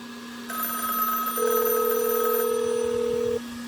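A telephone ringing over a phone line carried on a hacked satellite link, heard as steady electronic ringing tones that layer and hold for a few seconds over a faint low hum.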